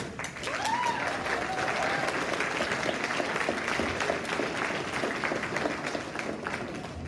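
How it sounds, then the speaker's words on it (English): A gala audience gives a sustained round of applause to a film's cast and crew, dense and steady clapping from a large room with a faint voice rising briefly early on. "please stand up so we can give them a round of applause"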